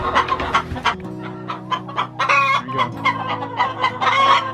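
Silkie and Cochin chickens cluck repeatedly in a busy flock, with overlapping calls and a brief crow-like note, close and fairly loud, with a few quiet spoken words mixed in.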